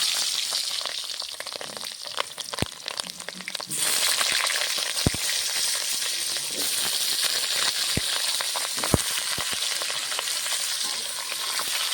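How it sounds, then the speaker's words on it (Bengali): Cut potatoes fry in oil in a kadai, a wok-style pan, with a continuous loud sizzle, broken by sharp clinks and scrapes of stirring. "আমি আলুটা ভেজে নেবো মাংসের জন্যে"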